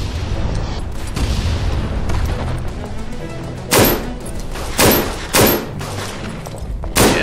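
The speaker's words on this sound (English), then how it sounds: "Yes, I'm just shooting blindly." A Browning Automatic Rifle (BAR) fired in the Verdun World War I game, several loud, close, sharp shots spaced a second or so apart over continuous battlefield rumble.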